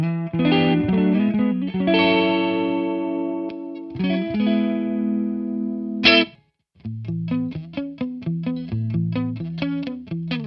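A Kiesel Hyperrig guitar runs through a chorus effect, first ringing out sustained, shimmering chords and then playing a quick, plucked run of notes with a light, distorted edge. No voices are heard.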